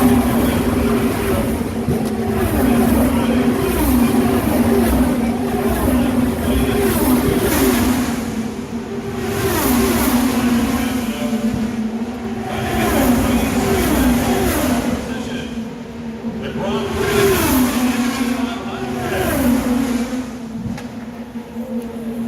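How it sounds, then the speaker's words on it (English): IndyCar race cars at the Indianapolis 500 come off turn four and pass one after another, each high-pitched engine whine swelling loudly and then fading in repeated waves, with no talk over it. "Here they come off of 4. And he's trying to make another charge."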